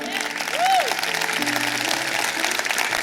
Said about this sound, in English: come on, we can clap that up